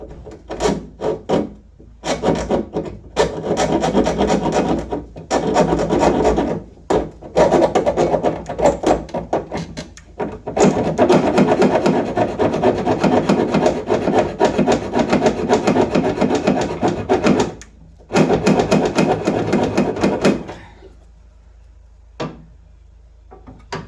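Cutting a painted aluminium rear bulkhead on a Land Rover Defender 130 TD5 produces a rough, raspy sawing sound in long sustained strokes with brief pauses, close and fairly loud, ending in near silence.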